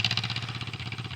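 A John Deere M tractor engine runs steadily at idle, a close, even chugging pulse of rapid regular firing with no voices over it.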